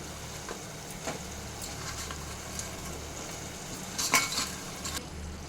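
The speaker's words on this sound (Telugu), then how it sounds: "కొంచెం ఫ్రైడ్ ఆనియన్, వేసుకొని బాగా కలుపుకోవాలి." Fried paneer pieces and fried onion are stirred into a pot of biryani, giving soft scraping and a faint sizzle, with a few light clinks of a metal spoon against the pot, heard near and fairly quiet.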